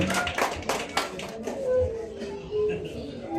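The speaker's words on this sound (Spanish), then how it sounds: "Fuerte las palmas para el caballero" An audience at a baptism celebration claps, a loose patter of hands with a few louder claps, while voices talk underneath.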